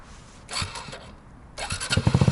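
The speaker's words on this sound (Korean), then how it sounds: "그 다음에 키 하고 시동." A Honda Super Cub motorcycle started with a key in a parking lot, a brief starter whirr and mechanical clicks followed by the small engine catching into a fast, close putter.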